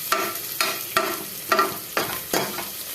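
Fenugreek leaves frying in oil in a pan for pulao, a steady sizzle broken by six rhythmic scraping stirs of a spoon about every half second, close and clear with no voices.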